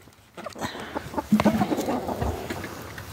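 Ameraucana hens cluck and murmur close by at feeding time, a busy cluster of short calls rising and overlapping in the middle before easing off.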